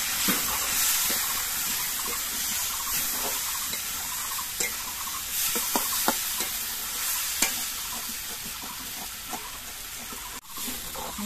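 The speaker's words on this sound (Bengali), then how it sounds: "মশলা দিয়ে আর সবজি দিয়ে আমি মিনিট 2 কষিয়ে নিয়েছি।" Vegetables sautéing in a pan with turmeric and cumin powder and a splash of water for a daliya and masoor dal dish, a steady close sizzle with occasional spatula stirs and scrapes, no talking.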